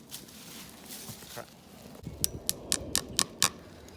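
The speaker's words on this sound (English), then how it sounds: "we need to tap in this spile that we put in the hole, and then we just tap it in with a hammer" A quick series of sharp, clicky hammer taps driving a spile into a tree's tap hole, about seven in a row at a steady pace, close by over faint outdoor background noise.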